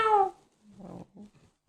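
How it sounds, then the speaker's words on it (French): A cat gives one clear, fairly close meow, followed by a few soft low rustles and thumps; no talk. "Tiens, en parlant de chat, on a le chat ici"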